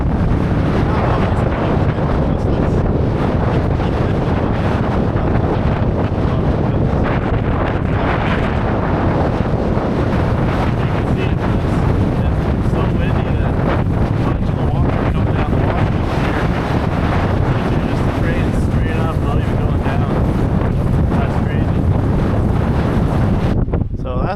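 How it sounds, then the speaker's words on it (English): Strong, relentless wind on an exposed mountain ridge roars and buffets the microphone with loud, continuous rumbling gusts throughout. "crazy windy up here too"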